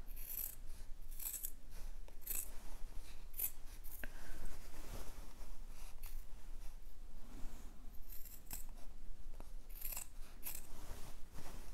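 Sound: scissors trimming seam allowance on fabric

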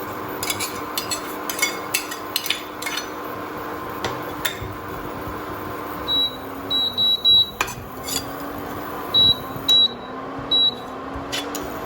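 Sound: stirring grated coconut in hot pan

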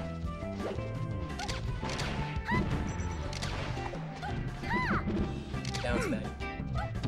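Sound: down smash attack in the video game Super Smash Bros. Melee

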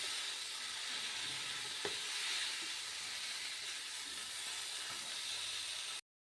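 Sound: spice masala sautéing in pan for paneer cauliflower curry

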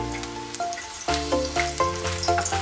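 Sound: ingredients frying in oil

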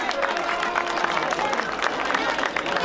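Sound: audience applause at mountain festival

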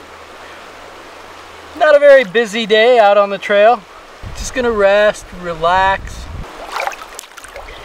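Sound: Little Naches River flowing over rocks

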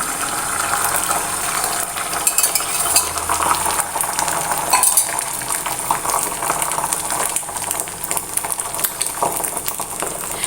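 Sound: egg cooking in oiled pan

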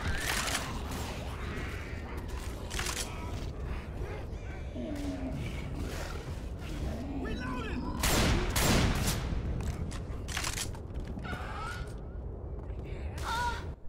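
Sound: friendly gunfire in the video game Left 4 Dead 2

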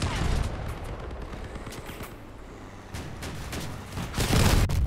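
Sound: machine gun fire in Crossout video game

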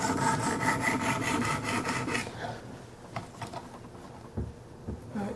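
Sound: knife sharpened on Wicked Edge stone sharpener

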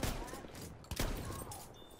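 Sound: gunfire from a gun in Battlefield 1 video game

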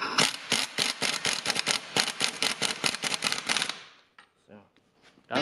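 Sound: impact wrench tightening strut piston rod nut on Opel Insignia

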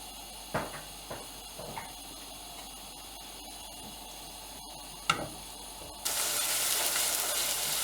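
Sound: onions and garlic frying in olive oil

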